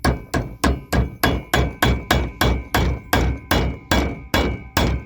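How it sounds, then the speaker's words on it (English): A hammer tapping a universal joint into place in a steady rhythm, about thirteen sharp, ringing metal taps spaced evenly, close and loud with no talking. "then just tap it in there with a hammer."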